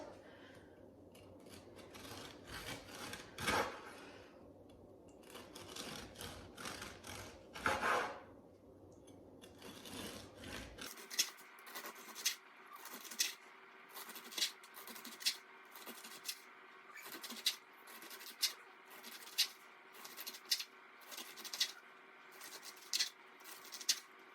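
A knife cuts through hard, dried-out baked walnut biscotti in a run of sharp, rasping crunches, each stroke a distinct scrape followed by a pause. The strokes come in a fairly steady rhythm and sound close and clear.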